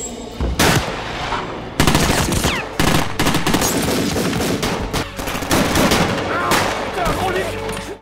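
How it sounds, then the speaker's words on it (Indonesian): A police shootout in a film scene erupts in loud, sustained volleys of rapid gunfire, with overlapping bursts and brief gaps, dense and close throughout. "Aksi saling tembak terjadi dan tak sedikit polisi yang menjadi korban dari kecerobohan Klein."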